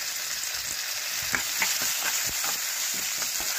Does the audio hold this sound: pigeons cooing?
no